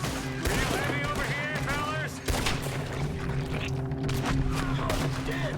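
Rapid gunfire in Red Dead Redemption 2 during a town shootout, dense crackling volleys and a sharp boom under continuous shouted talk and game background noise.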